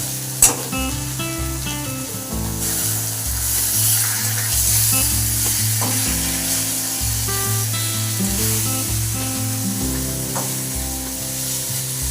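Potatoes fry in hot oil with a steady, loud sizzle that continues throughout, with occasional stirring scrapes and a brief knock at the start; background music plays underneath.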